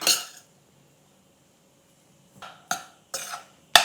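A spoon clinks against a bowl while spices are mixed for ragda pattice, giving an opening scrape followed by silence and then three or four sharp metallic taps and stirs.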